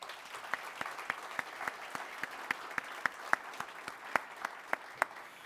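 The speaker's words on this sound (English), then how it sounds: "Another round of applause for our president." An audience at a Miami-Dade College workforce advisory meet and greet applauds the college president: a steady patter of claps at moderate level with sharp individual claps standing out, and no talk over it.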